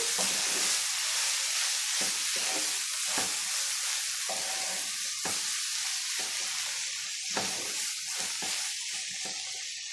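Red amaranth leaves stir-frying in a hot pan, a steady loud sizzle and hiss with repeated scraping stirs of the spatula at irregular intervals, close up and with no talking.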